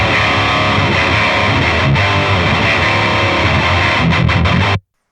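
Thick, heavily distorted electric guitar through a Fein speaker impulse response from Lichtlärm Audio chugs loudly and continuously for several seconds, then cuts off abruptly.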